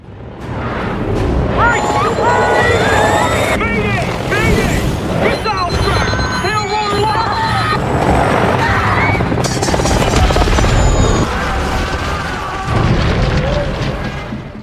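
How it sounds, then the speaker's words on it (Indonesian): Helicopter shot down by gunfire, loud booming explosions and crashing impacts mixed with dense effects and rotor noise, with a voice speaking over parts of it. "Lalu tiba-tiba helikopter tersebut ditembak jatuh oleh pasukan Big Daddy"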